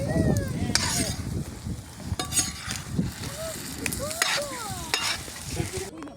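Meat frying on a sac pan outdoors, sizzling steadily while a utensil scrapes and stirs it in repeated clinks and scrapes, close and continuous, with occasional faint voices in the background.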